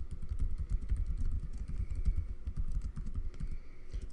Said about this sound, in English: edit this by double clicking and typing the title of our book